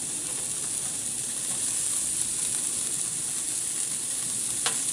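Mushroom skewers sizzle on a hot grill in a steady, close, bright hiss of frying that runs unbroken throughout, with a faint click near the end and no talking.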